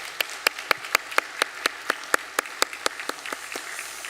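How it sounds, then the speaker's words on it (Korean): Sparse, rhythmic hand clapping from a church congregation welcoming a new family during a Sunday service, sharp individual claps in a steady beat, fairly quiet and without talk. "우리 박수로"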